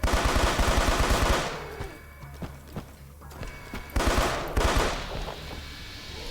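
Rapid bursts of gunfire from a bomb-launching weapon in a Quake- and Doom-style shooter, loud and dense for the first two seconds, then scattered single shots and a second heavy burst near four seconds.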